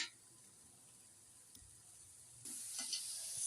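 Mashed boiled potato paste hitting hot oil and spices in a pan for Bangladeshi chotpoti, a soft steady hiss that grows louder partway through with a few stirring scrapes, close and without talk.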